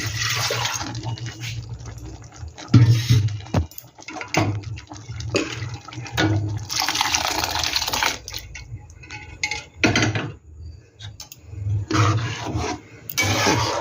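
Water poured into a pot of ghugni as it cooks, with splashing, scraping and stirring sounds coming in uneven bursts, close by with no talk.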